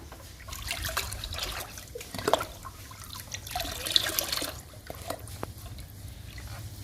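Liquid plant feed sloshing and trickling in a bucket of water as it is stirred, with irregular splashes and drips rising and falling in intensity.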